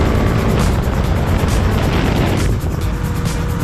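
A KTM 390 Duke with its sub-400cc single-cylinder engine ridden through heavy traffic: a loud, continuous engine drone blended with rushing wind, steady and close throughout.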